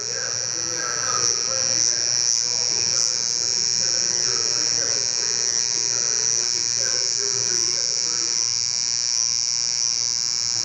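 Hair clipper and trimmer buzzing steadily at close range while a low taper fade haircut is lined up and touched up at a barbershop, with a constant electric whine throughout and someone talking faintly underneath.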